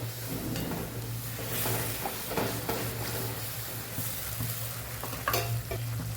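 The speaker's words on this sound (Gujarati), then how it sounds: "જો આપણે ગરમ પાણી ઉમેર્યું તો પણ આપણું ગ્રેવી ઉકળતી જ રહી છે" Fenugreek-leaf gravy bubbles and sizzles in a pan after hot water is added, a steady close hiss with stirring scrapes and a low stove hum underneath.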